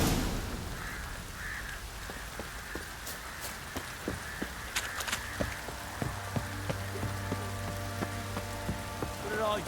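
Soft, steady rainfall patters on surfaces in The Witcher 3, a faint hiss with scattered drop ticks, while a crow caws in the distance and a low sustained tone enters near the end.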